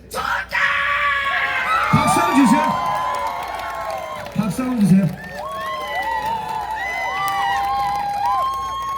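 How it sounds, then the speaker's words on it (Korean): A beach festival crowd at a mud-flat seaside event roars with loud shouts and cheers in two surging bursts, then a host's amplified voice talks over lingering crowd murmur. "지금 기분 좋은 마음을 함성으로 한 손 한번 표현해 보세요"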